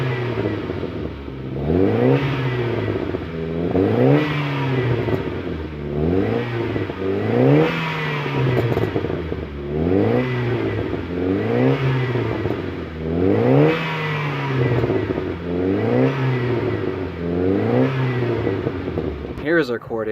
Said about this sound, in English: revving the engine up.